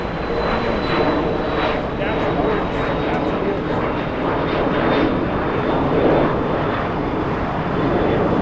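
A British Airways jet taxis at Los Angeles International Airport, giving a steady, loud, broadband engine roar that holds constant throughout, with people talking over it.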